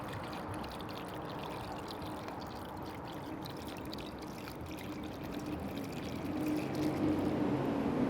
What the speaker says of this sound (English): give the bowl a rinse and do another soak on the clam